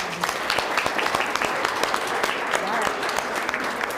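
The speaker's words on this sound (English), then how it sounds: "Give yourself a big round of applause, please." A round of applause from a school audience at a Battle of the Books competition, steady crowded clapping with individual sharp claps standing out, continuous for the whole stretch.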